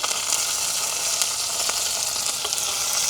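Small onions and green chilies stir-fry in a pan during village-style cooking, giving a continuous close, bright sizzle with faint stirring clicks and no talk.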